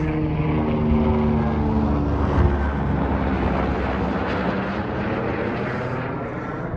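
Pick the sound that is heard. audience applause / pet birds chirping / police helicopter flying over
police helicopter flying over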